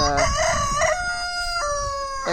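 A pet chicken calls out loudly and close by in a few drawn-out, raspy squawks that sound almost like a crow, with no one talking.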